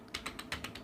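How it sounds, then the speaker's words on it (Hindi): Quiet typing on a computer keyboard while entering a column heading in an Excel spreadsheet, with seven crisp keystrokes in a quick, slightly uneven rhythm, close and alone. "यहाँ पे टाइप कर लेता हूँ परसेंटेज"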